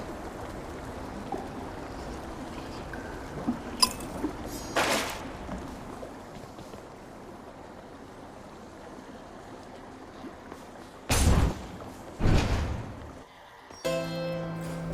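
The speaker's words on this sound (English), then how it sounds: "I think I hear the river." A river in the video game Hades flows as a soft, continuous watery rush under a quiet ambient bed, broken by several louder, brief game sound effects near the end.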